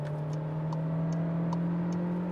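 A Volkswagen T-Roc car engine at full throttle, a steady drone holding a constant pitch, with faint ticking clicks repeating above it; no voices.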